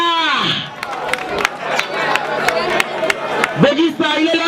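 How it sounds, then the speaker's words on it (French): At an African youth festival stage show, a crowd claps and cheers for the performer Boggy Star, with scattered sharp claps under a loud voice that shouts at the start and again near the end. "On l'applaudit très fort, s'il vous plaît."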